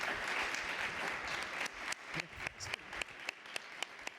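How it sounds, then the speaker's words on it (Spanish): Audience applause welcoming a journalist and writer at a literary festival colloquium in Antequera, a steady wash of clapping from a seated crowd that thins into scattered individual claps before fading out. "os pido un gran aplauso de bienvenida"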